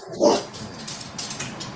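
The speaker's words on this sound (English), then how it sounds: "That sounds like a big dog." A big dog gives a single deep, loud bark close by, followed by a short stretch of quieter room noise.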